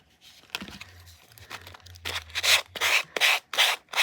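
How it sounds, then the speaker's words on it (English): A handheld power sander with worn sandpaper rubbing down a surface, heard as a low motor hum followed by a series of loud, rhythmic broadband rasping strokes, close and with no talk. "I think my sander needs new sandpaper"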